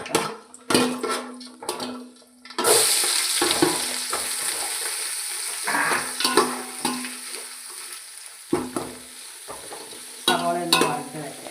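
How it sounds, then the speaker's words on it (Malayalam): Onions sautéing in a pan for vegetable pulao, with a steady hiss of frying broken by repeated scrapes and clinks as a spoon stirs against the metal in uneven bursts. "സവാള ഒന്ന് വഴറ്റി വരട്ടെ കേട്ടോ"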